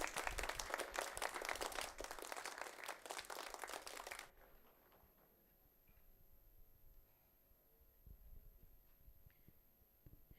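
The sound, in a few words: audience applause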